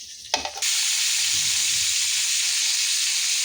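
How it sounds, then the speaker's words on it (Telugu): A ground paste of peanuts, sesame and cashew with stewed tomato and tamarind hits hot oil after a short clatter and breaks into a loud, steady sizzling hiss that continues unbroken. "ఇలా ఫ్రై చేసుకోవాలి. ఇది ఇంకా కొంచెం ఫ్రై కావాలి."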